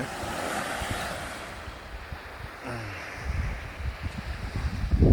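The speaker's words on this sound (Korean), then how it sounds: "바닷가를 좀 보여드리고 다시." Sea waves wash in at the seaside, a continuous rushing surf with some wind buffeting the microphone, growing louder toward the end.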